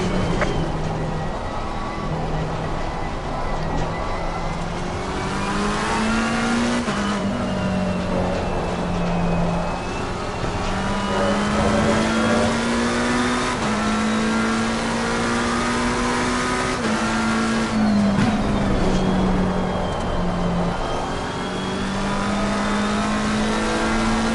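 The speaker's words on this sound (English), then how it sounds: "the McLaren engine sounds nice" A McLaren 720 race car engine in the game Assetto Corsa Competizione screams at high revs, climbing through gears in long sustained pulls with brief dips at each shift, loud and continuous.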